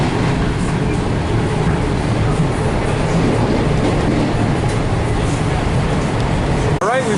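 A commuter train pulls into Penn Station in New York City, a steady loud rumble of wheels and carriage noise filling the whole stretch, with a brief squeal near the end.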